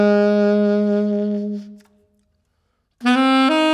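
A smooth jazz saxophone plays a phrase from a song, sustained notes with a grace-note lead-in that fade out, followed by a short silence, then another clear held phrase entering loud and close.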